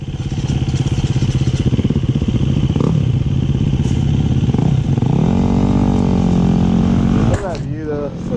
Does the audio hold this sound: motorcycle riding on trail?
yes